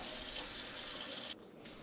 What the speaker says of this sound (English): clean your duck by rinsing it several times in cold water